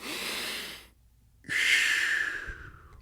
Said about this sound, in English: Short breathing. Yeah, because just on the top of your lungs.